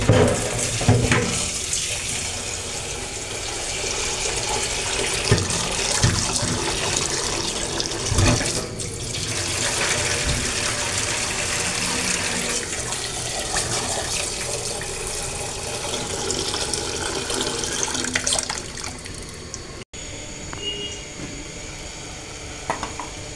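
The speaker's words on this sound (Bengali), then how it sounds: "এই যে আলু কেটে নিয়ে এলাম, ধুয়ে নিব।" Cut potatoes are rinsed under a running kitchen tap, with water splashing and pouring steadily and close by, punctuated by occasional clatters, throughout.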